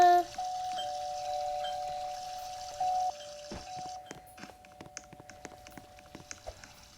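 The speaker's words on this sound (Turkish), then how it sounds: "zil çaldı." An electronic doorbell chime plays a sustained tone, followed by a series of soft knocks and taps.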